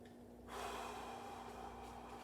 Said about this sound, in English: Take a couple of nice energy releasing breaths, which is in the nose, out the mouth